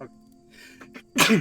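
A single sharp, loud sneeze bursts out at the end after quiet moments of murmured talk around a tabletop game session.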